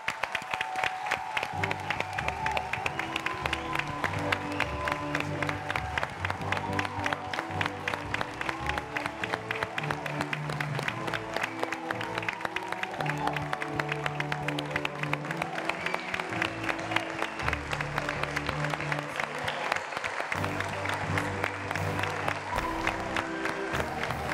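A studio audience applauding and cheering throughout, steady dense clapping mixed with music and crowd noise, holding at an even level for the whole stretch.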